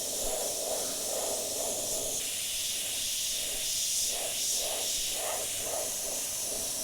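An airbrush sprays paint close up onto a colouring page, a steady hiss with short pulsing bursts as the trigger is worked.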